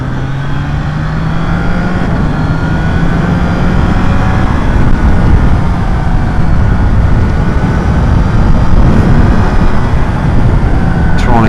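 A motorcycle rides along the road chasing a Ducati on the way to the races. A loud, steady engine whine rises and falls under constant rushing wind roar.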